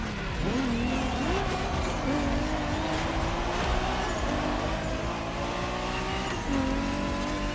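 A Toyota Supra racing in The Crew Motorfest, its engine droning and rising with gear changes at a steady, loud level, with some tire squeal and no voices.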